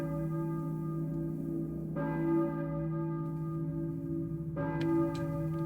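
A church bell in the Silent Hill video game tolls twice, each ring a clear sustained metallic strike whose resonant hum lingers between the close, loud strokes.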